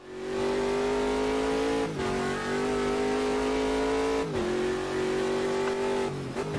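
Sigma P1 race car engine screaming at high revs on a fast lap at Watkins Glen in a racing game, steady loud drone with sharp dips for three quick upshifts, no talk.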